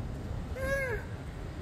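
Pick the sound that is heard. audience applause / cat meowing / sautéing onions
cat meowing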